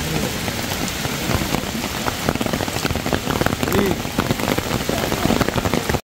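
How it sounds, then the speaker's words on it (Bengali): Heavy rain pours down at Radhanagar Beach on Havelock during a storm, a dense, steady, loud roar of drops hitting surfaces throughout, with faint voices underneath. "কি অবস্থা, মুষলধারে বৃষ্টি হচ্ছে দেখো।"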